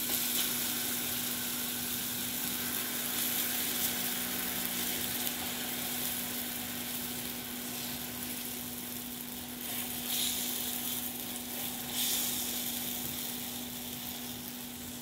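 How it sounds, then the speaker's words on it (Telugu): Uthappam dosa batter sizzling on a hot pan, a steady soft crackling sizzle throughout with a constant low hum and occasional faint scraping. "ఇప్పుడు దోసల పిండి వేసుకోవాలి. అదే ఊతప్పం పిండి వేసుకోవాలి."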